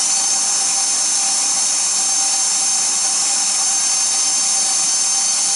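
A flex shaft polishing wheel works on sterling silver beads, making a loud, continuous high-pitched whir that holds steady throughout with no talking.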